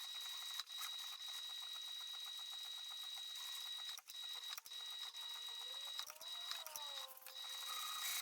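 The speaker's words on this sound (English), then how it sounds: "Now we're just going to sew from one top edge all the way over to the other." A sewing machine stitches along the top edge of a bag lining, a faint steady mechanical whir with a high whine, briefly pausing twice before resuming.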